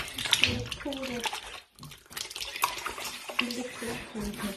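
Elderflower cordial splashes and pours through a muslin-lined sieve in uneven bursts, briefly pausing before running again, close by, with a person talking over it.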